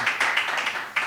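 Brief audience applause for a live singer's performance at a lounge, a short close burst of clapping lasting about a second.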